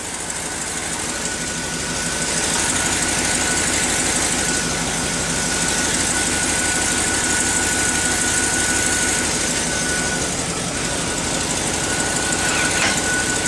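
A vehicle engine runs steadily with the back tires spinning during transfer case work, a loud, constant mechanical drone with a whining tone that swells slightly after the first couple of seconds and then stays level.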